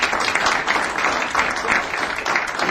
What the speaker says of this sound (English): I want to applaud you, Dan.